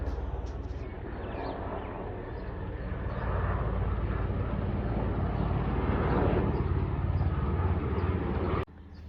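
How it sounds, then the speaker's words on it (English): Helicopter passing overhead, a continuous broadband rotor and engine roar that holds steady and swells slightly toward the middle before cutting off near the end. "there's a helicopter flying over right now"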